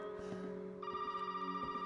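A phone rings inside the Resident Evil 7 Biohazard VR game, a steady electronic ringtone tone that starts midway and holds loud and close over low game ambience.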